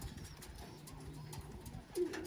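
Young Birmingham Roller pigeons are heard outdoors in faint, low cooing with soft rustling and fluttering, quiet and somewhat distant.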